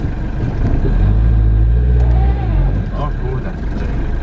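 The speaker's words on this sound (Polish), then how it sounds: "Buksują." Heavy camper van engine revving as its wheels spin on slippery ground, a loud close low drone swelling and easing, with people talking over it.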